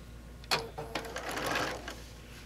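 A sewing machine stitches French binding onto a quilt, a short burst of mechanical whirring that starts abruptly and runs steadily at close range with no talk over it.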